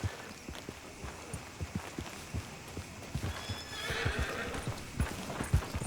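A horse in the Red Dead Redemption II video game neighs loudly while its hooves clip-clop in a steady walking rhythm, close and clear above quiet game ambience, with no talking.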